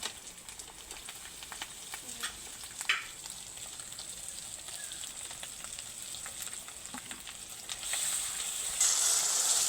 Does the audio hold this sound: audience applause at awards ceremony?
no